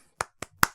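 Three sharp hand claps in steady succession, each a short crisp burst with a quiet gap between, the last one loudest and close.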